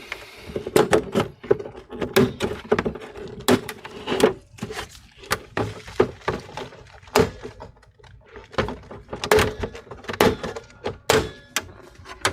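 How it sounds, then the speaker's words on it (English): A prying tool works the back cover off a Dell Inspiron 5490 all-in-one computer, giving repeated sharp plastic snaps and clicks in an irregular rhythm, close and fairly loud with creaks in between. "I stick my prying tool in between the cover. Just try to pry it open."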